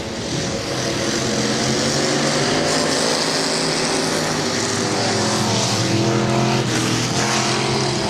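A-Mod race cars roar around a dirt track, and their engine drone stays loud and unbroken as several cars pass. The pitch rises and falls steadily the whole time.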